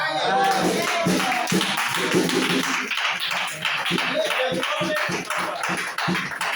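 A congregation at a preaching service breaks into dense, sustained applause, a thick wash of clapping that fills the whole stretch at steady, fairly loud level.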